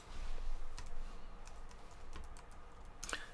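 Close computer keyboard typing, a steady patter of quiet key taps over light background hiss with a sharper clack near the end, and no voices.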